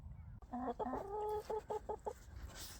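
Backyard hens cluck loudly and persistently in a series of short, rhythmic calls close by, with a rising squawk near the end, while the flock gathers in their run.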